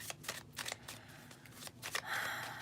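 Tarot cards shuffled by hand in quick papery bursts, a steady riffling rhythm of rustles and soft flicks, close and fairly quiet with no talking.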